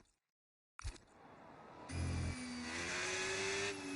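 Onboard race car engine in a sim racing game at a Spanish circuit, a sharp start after near silence, then a steady engine note that rises in pitch and grows loud as the car accelerates.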